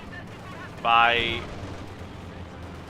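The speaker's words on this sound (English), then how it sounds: "We see a strafing run getting called in" Strafing-run gunfire in the game Company of Heroes 2 bursts out as one short harsh blast of about half a second, over a low battle rumble, with a commentator talking nearby.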